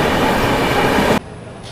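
Steady rumble and rattle from inside a moving passenger train travelling toward New Maynaguri in North Bengal, loud and continuous, then dropping abruptly to a quieter hum near the end, with no voices.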